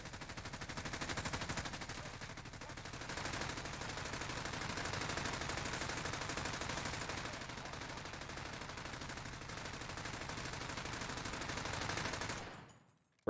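Sustained rapid gunfire in a Modern Warfare multiplayer match, a dense, fairly quiet rattle of shots running almost without pause before cutting off abruptly near the end.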